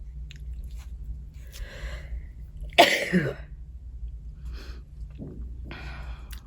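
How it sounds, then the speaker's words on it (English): A woman sneezes once, a sharp sudden burst standing out against a quiet indoor room hum, with soft breathing and small mouth sounds before and after. "Goodness, I got the sneezes today."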